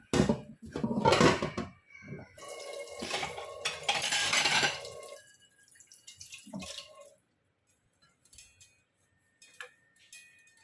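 Dishes and utensils are washed and rinsed in a kitchen: metal and ceramic clatter, scraping and dripping water come close and loud at first, then fade to a few scattered clinks and drips.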